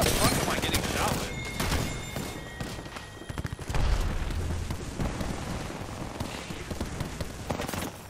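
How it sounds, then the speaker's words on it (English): Incoming gunfire striking the player in Apex Legends, a dense continuous rattle of shots and impact bursts over busy game noise, with voices talking over it. "What the fuck am I getting shot with?"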